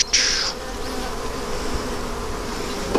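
Honeybees buzz around an open mating nuc hive, a steady close drone of many bees with one bee zipping right past near the start.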